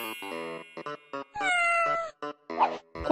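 A cat meows in a series of short, tonal calls followed by a longer drawn-out meow, heard close and clear in a quiet indoor room, with no talking.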